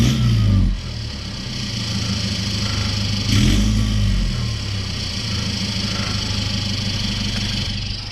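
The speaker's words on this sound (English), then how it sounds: "Truck's running." A Chevrolet Colorado ZR2 pickup truck engine running, a loud rev at first settling into a steady throaty idle with a brief surge midway, heard up close with no talking.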